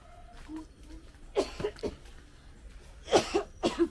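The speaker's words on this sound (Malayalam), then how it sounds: "ചുമയാണോ?" Someone nearby gives a series of short, dry coughs in two clusters, three quick bursts followed after a pause by a few more, in an otherwise quiet setting.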